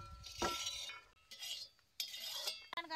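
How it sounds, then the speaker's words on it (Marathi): A ladle clinks and scrapes against a pot while buttermilk is stirred beside an outdoor wood-fired stove, soft intermittent metallic taps and swishes separated by brief quiet gaps. "जरा ताक हलवाय पाहिजे"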